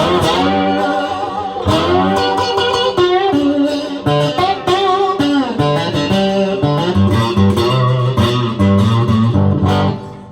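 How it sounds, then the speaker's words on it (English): Heavily distorted, twangy four-string cigar box guitar with a thick midrange tone and reduced treble, strummed and picked continuously at a loud, steady level. "if I crank up the distortion just a little bit more and take off a bit of the treble"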